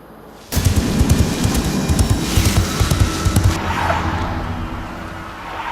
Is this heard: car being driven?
yes